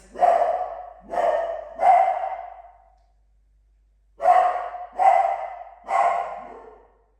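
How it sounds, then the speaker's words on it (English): A dog barks six times in two groups of three, with a short silent gap between the groups; the barks are close and loud. "I hope you don't have dogs because they're going to start barking now."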